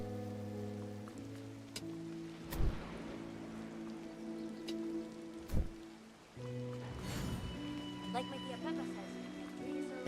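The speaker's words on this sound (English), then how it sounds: "I really want it to stop raining. It needs to stop raining." Rain falling outdoors at a theme park plaza with Mickey pumpkins, a soft steady patter behind sustained musical tones and a few sharp knocks, with people talking over it.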